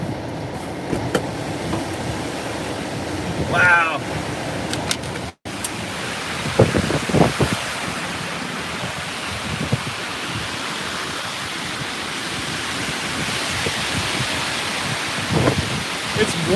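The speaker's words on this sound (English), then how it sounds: "it's gusting pretty good here" Strong gusty wind roars during a windstorm along the coast at Rockaway, Oregon, a loud, broadband rush that rises and falls. A person exclaims briefly, and there is a short dropout partway through.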